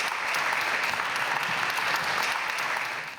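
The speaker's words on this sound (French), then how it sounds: "Les applaudissements sont destinés ce soir à Marie-Joëlle Guillaume pour son livre Vincent de Paul." Steady, dense applause from an audience at a Catholic literature prize ceremony honoring the winning author, a fairly loud, even wash of clapping that fades slightly at the end.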